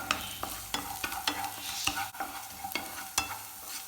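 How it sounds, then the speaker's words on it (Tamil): Onion and garlic sauté in a pan for bean poriyal, a steady sizzle broken by repeated close clacks of a spatula stirring, no speech. "வெங்காயம் பூண்டு நல்லா வதங்கணும். நல்லா வதங்கிடுச்சு."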